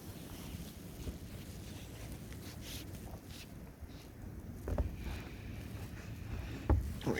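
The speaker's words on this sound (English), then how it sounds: "step down here and stick the camera out into it. Looking right into the wind now." Snowstorm wind buffeting a camera held out into the gusts, a steady loud roaring rush with occasional harder thumps on the microphone and no talking.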